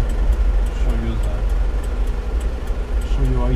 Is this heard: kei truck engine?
yes